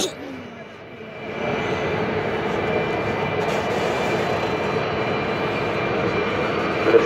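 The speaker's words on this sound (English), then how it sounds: "The distinctive sound of the jet dryers here at Las Vegas Motor Speedway." A loud, steady jet-engine roar from jet dryers drying the NASCAR track at Las Vegas Motor Speedway, a continuous broadband rush that holds constant throughout with no pauses.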